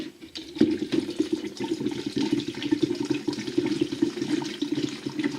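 Isopropyl alcohol pours in a steady, gurgling stream into a container close by, continuous for several seconds.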